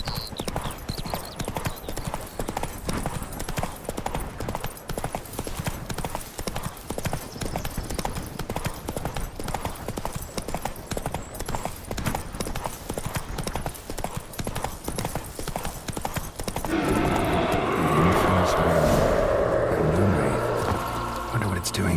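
Horse hooves galloping in The Witcher 3, a fast steady clip-clop that runs loud and close throughout, joined near the end by a louder rushing wash of ambient noise.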